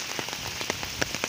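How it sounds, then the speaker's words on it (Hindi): Heavy monsoon rain pours down in Nagothane amid waterlogged streets, a dense steady hiss broken by sharp close drops spattering on surfaces. "बहुत ही अच्छी बारिश हो रही है यहाँ पर।"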